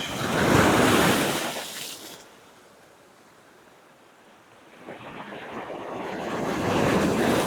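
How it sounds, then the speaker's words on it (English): Ocean surf at Pessada Beach, a wave breaking and washing loudly, easing to a quiet lull, then another swelling rush of surf, with some wind buffeting the microphone. "this is the beach"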